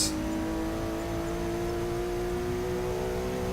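A car engine in Forza 6 revs steadily and climbs through the gears, a sustained, fairly loud whine with a steady hum, heard alone without speech.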